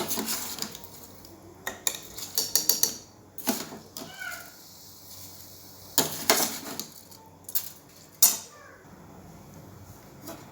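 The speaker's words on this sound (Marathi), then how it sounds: "आता आपण तांदूळ डाळ टाकूया त्याच्यामध्ये धुवून घेतलेली" Washed rice and lentils are tipped into a pot of hot tempered water, giving several short bursts of grainy clatter and rattling against the metal, separated by quiet gaps.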